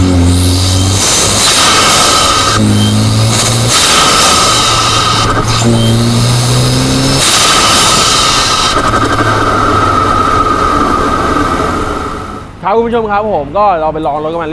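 A tuned BMW F30 328i with a Stage 2 tune and a Wagner EVO intercooler revs hard several times, its exhaust climbing in loud rising sweeps and falling back, then holding a steady drone before a voice briefly speaks at the end.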